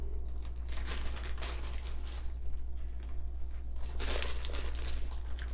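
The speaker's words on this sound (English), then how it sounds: "wrap it up into a plastic bag and save it for later." A plastic bag crinkles and rustles up close as half a tomato is wrapped in it, irregular bursts of crackling at moderate loudness with no voices.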